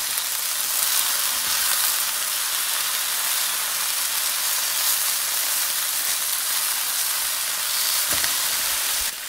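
Beef tenderloin searing in a hot cast iron pan, a loud, dense, unbroken sizzle and hiss close up, steady throughout with no talking.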